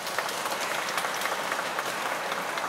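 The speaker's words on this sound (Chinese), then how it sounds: "大家是不是再用热烈掌声" Dense, steady audience applause at a naval underwater operations unit ceremony, many hands clapping together in a continuous even roar with no talk over it.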